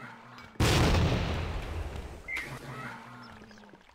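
A grenade explosion in the video game Tactical Ops Monster Attack hits as one loud, booming blast with a long rumbling decay, followed by a fainter crack or shot during the fade.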